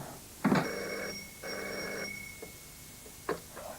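An old-style telephone bell rings in a hospital setting, two distinct trilling bursts separated by a pause, with faint clicks and handling sounds afterward.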